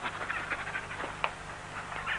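A dog pants and whimpers softly at close range, with short breathy bursts and a brief sharp yelp partway through, over a low steady background hum.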